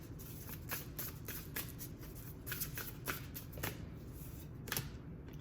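Oracle card deck shuffled by hand, a steady papery riffling with sharper bursts at intervals, close and continuous under a faint background hum.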